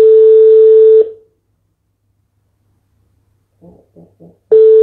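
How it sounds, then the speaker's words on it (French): A steady telephone dial tone sounds for about a second, cuts off into silence, then a few short dialing tones follow before the steady tone returns. "On va appeler Nesta."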